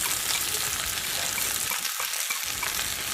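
Chopped vegetables fry with spice paste in a pan, giving a dense, continuous loud sizzle that runs throughout with only a brief dip near the end, no voices.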